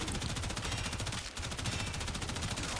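The Prisma Gorgon gun in the video game Warframe fires a loud, rapid, unbroken automatic stream of shots for about three seconds.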